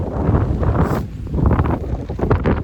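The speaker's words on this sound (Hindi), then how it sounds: "हवा मतलब धकेल रही है मुझे आगे की तरफ, इतनी तेज़ हवा।" Strong wind roars across the microphone on a riverbank by the Ganga, a steady loud buffeting rumble with gusty surges and no speech.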